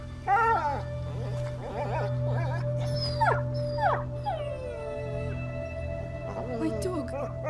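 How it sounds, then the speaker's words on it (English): Dog in the video game A Plague Tale: Innocence whimpering and letting out drawn-out howls and whines, repeated in bursts over a steady low ambient drone, fairly close and clear. "My dog!"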